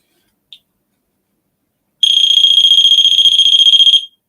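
A homemade EMF detector with a buzzer and LED goes off, giving one tiny blip followed by a loud, steady high-pitched electronic buzz lasting about two seconds before it cuts out.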